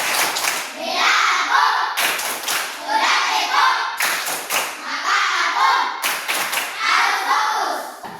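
Schoolchildren clap through the rhythmic 'tepuk fokus' routine, in repeated patterned bursts of sharp claps about every two seconds, mixed with group chanting voices.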